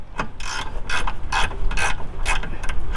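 A hand ratchet wrench loosening a headlight mounting bolt on a Volvo XC70R project car, giving a steady series of close, crisp clicking bursts with no talk.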